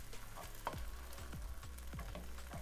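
Coconut green curry fried rice being stirred in a hot pan, a low sizzle under a regular series of scraping spatula strokes, faint and close.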